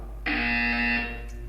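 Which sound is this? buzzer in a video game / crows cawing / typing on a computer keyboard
buzzer in a video game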